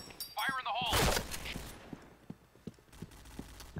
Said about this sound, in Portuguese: Minha granada não tem nada a ver, eu joguei muito perto.